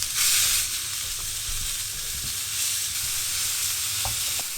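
Juicy Lucy beef burger sizzles and spits in a hot pan right after being flipped, a steady loud frying hiss with small pops, with no talking over it.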